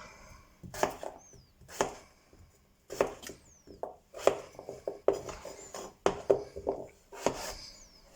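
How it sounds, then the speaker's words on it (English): Knife chopping peeled potatoes into cubes on a cutting board, a steady series of close, sharp thuds in irregular bursts with short pauses between. "once peeled I will cut them into cubes"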